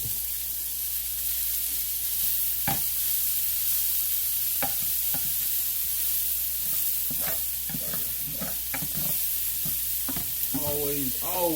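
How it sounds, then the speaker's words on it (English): Fried cabbage sizzles steadily in a pan as it is stirred, with intermittent scraping and tapping strokes and a brief voice near the end. "Now go ahead and give it a stir."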